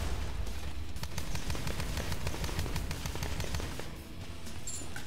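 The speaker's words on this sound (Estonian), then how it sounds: "Paneme pesa alla pommi." A bomb goes off beneath a nest in the shooter game Immortal Redneck, a dense run of loud blasts and rapid gunfire-like bursts that fills the scene, then dips briefly before the noise resumes.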